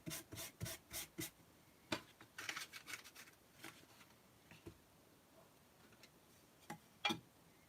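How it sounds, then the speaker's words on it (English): An embossing buddy is rubbed over card stock in a series of short, close rasping strokes, quick at first and then more scattered, with quiet pauses between them. "I'm just going to use my embossing buddy over both of them, over all 3."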